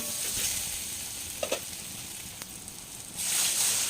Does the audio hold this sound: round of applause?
no